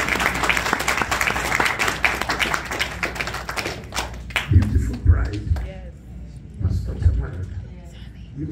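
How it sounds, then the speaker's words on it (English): Wedding guests clap for the groom during the vows at a ceremony in Atlanta: brisk, close clapping from a small crowd for about four seconds, then it thins into scattered claps as voices and murmuring take over. "Can we clap for David?"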